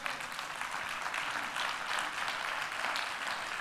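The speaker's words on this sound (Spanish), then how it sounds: "Eso merece un aplauso" A church congregation applauding during a sermon, with dense, even clapping throughout the short stretch and no voices over it.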